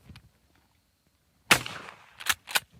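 A Mossberg 835 Ulti-Mag 12-gauge pump shotgun fires one sharp, loud blast outdoors, followed by two quick metallic clacks from the pump action being worked.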